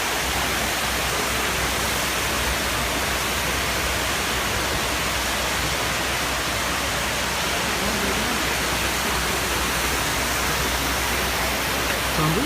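Steady broadband rush of water pouring into the 9/11 memorial fountain pools in New York City, a continuous loud wash with no breaks across the whole stretch.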